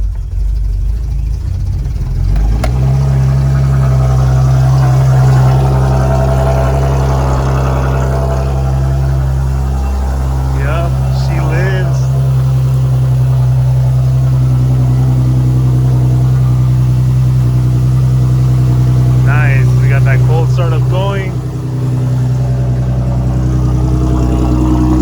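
Crash-damaged Infiniti G37 running after its rebuild. Steady, loud, low idle hum, with two brief chirping squeals partway through.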